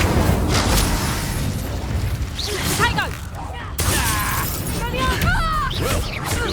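An Incendio fire spell cast in the game Hogwarts Legacy, a burst of crackling, whooshing impact amid combat effects, with voices shouting over the game sounds.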